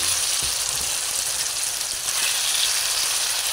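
Shrimp fries in a pan with sautéed ingredients, a steady, close hiss and crackle of sizzling oil that stays even throughout with no talking.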